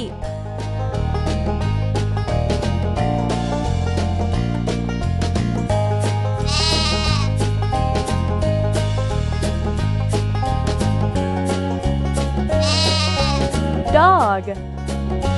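Sheep bleats in a children's farm-animal stacking game, a wavering bleat near the middle and another near the end, both set against steady bouncy game music that runs throughout.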